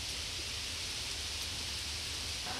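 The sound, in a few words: rain falling in Mumbai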